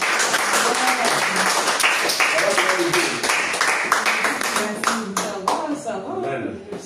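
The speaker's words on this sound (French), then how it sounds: "on acclame le Seigneur pour sa présence" Church congregation applauding the Lord during a Sunday worship service, dense steady clapping from many hands filling the room throughout, with voices mixed in underneath.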